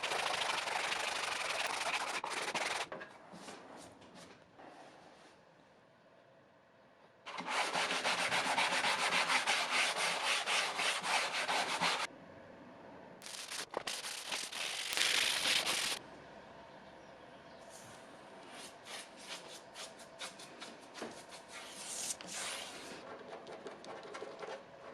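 Scratches and old glue being sanded from a poplar wood dining table top, with long stretches of steady abrasive rubbing broken by short pauses, loud and close with no talk.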